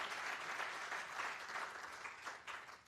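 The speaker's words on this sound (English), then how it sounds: "Let's give them another round of applause" Steady applause from a crowd, a dense patter of clapping lasting a few seconds, moderately distant with no talking.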